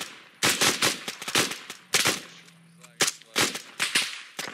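Overhead gunfire in a military video game comes as loud, close bursts of rapid shots in irregular clusters, separated by brief pauses.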